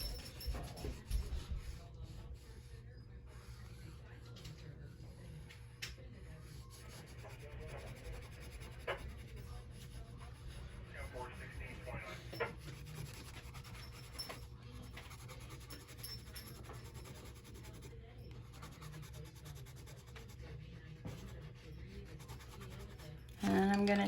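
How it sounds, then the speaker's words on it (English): Graphite pencil shading a cast shadow on drawing paper, the pencil held sideways: a steady, soft, continuous scratching and rubbing that runs the whole time at close range, with no talking over it. "I'm gonna shade in that cast shadow first and foremost."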